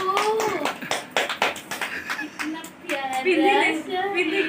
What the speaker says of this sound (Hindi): ताली मार ताली मार